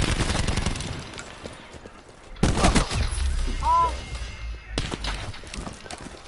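Gunfire in Fortnite played on PS4, heard as a dense burst of loud shots near the start and another sharp burst midway, with sparse game noise between and no voices.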